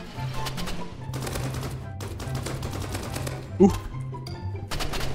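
Rapid bursts of video game gunfire from a new AUG rifle in Roblox Rivals ring out in repeated volleys with brief pauses and one sharp impact. A player's voice breaks in briefly over the shooting.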